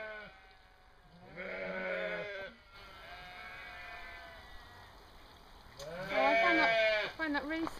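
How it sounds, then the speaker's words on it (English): Lambs and ewes held apart in separate pens bleat loudly and insistently, a cluster of calls early on, a quieter stretch, then a denser, closer burst of overlapping bleats near the end. "we've got all the lambs over there separated from all the ewes over here, and they're all just going berserk"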